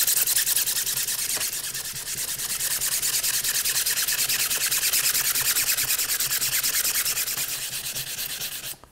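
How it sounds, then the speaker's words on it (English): Continuous abrasive rubbing as a 3D-printed toolpost riser casting is sanded by hand, a steady, close, dense scratching that keeps an even pace for about nine seconds before cutting off abruptly. "it's a good way to test and see how it sands"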